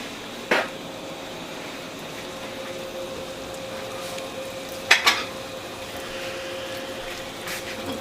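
Low, steady sizzle of cod fritters (bacalaitos) frying in oil, broken by a few sharp clinks of a utensil against the pan.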